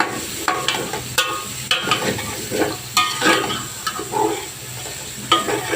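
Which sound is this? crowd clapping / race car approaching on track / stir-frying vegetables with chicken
stir-frying vegetables with chicken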